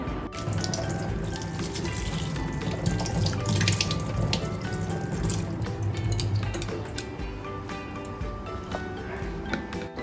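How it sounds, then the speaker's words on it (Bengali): A pineapple is washed by hand under a running kitchen tap: a steady, close rush of water splashing off the fruit into the sink, continuous for the whole stretch with no talking. "এখন আমি ধুয়ে নিয়ে কাটবো"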